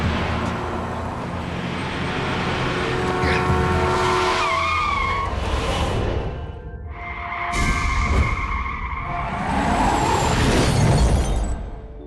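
A truck lurches along with tires skidding and squealing, and loud, chaotic crashing and screeching fill the scene, with some voices faintly mixed in.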